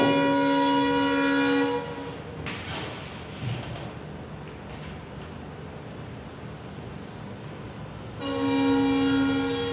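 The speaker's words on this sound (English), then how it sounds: "Let the train go." A train passing nearby, with a steady horn tone at the start and end framing a broad rumble and clatter of wagons rolling past, loud and without speech.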